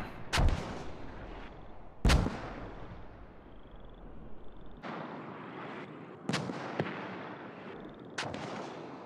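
Bursts of gunfire in the Squad video game, five sharp, loud volleys spaced a second or two apart, each with a booming low-end thump and a quick decaying tail, over faint background ambience.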